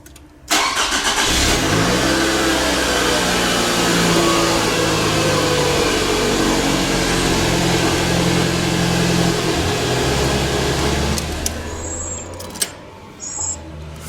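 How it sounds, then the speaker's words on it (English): A 2009 Scion xB engine cranks and catches, then runs loud and close at a steady idle for about ten seconds before it fades and a few small clicks follow. "just turn the engine on so that the engine boost is effective"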